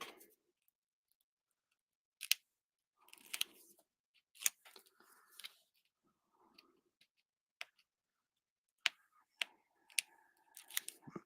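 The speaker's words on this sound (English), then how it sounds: "let me grab my scissors, and I'm going to cut it" Scissors snip through paper while a card is being made, giving a series of crisp, close cuts in irregular bursts with quiet pauses between them and no talking.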